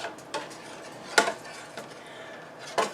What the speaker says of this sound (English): I'm going to stir this a little bit, and we're going to let this come to a boil